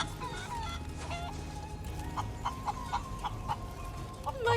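Chickens cluck in Final Fantasy VII Rebirth, a series of short, bright clucks spaced through the second half over a low ambient game background, with no talking.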